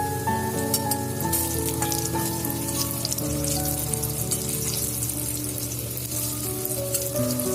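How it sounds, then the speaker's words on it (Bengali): Jackfruit koftas fry in oil with a constant loud sizzle and fine spattering crackle, heard up close with no talking. "আমার এগুলো বেশ লাল লাল করে ভাজা হয়ে গেছে কোপ্তাগুলো"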